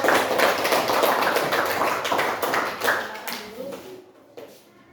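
A short burst of clapping from a class or audience at an Indonesian lesson, dense taps for about four seconds before fading out quickly, with voices mixed in.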